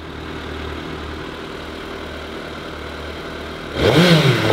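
A 2023 Suzuki Hayabusa motorcycle engine idling nearby with a steady low rumble, then revved sharply near the end into a louder rising and falling surge.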